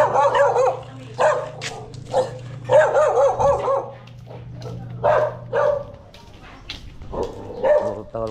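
A dog barks repeatedly in short loud bursts near a river crossing on a morning fishing outing, with a steady low hum underneath and some quiet talk in between.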